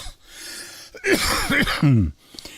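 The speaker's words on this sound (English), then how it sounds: "the old cough is back" A person gives a few harsh, throaty coughs close up, with a short breathy rasp before them and quiet surroundings.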